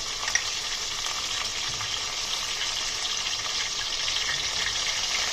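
Mustard seeds, cumin, dried red chillies, curry leaves and asafoetida fry in hot oil, giving a steady close sizzle with faint crackles throughout and no speech.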